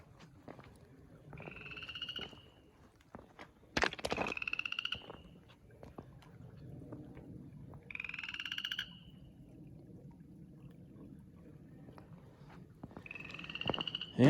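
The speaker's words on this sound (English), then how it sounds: "I got a frog singing in the water tank there." A frog croaking from a cool spring-water tank outdoors, its trilled calls coming in short bursts separated by pauses, fairly close and clear over a low background rumble.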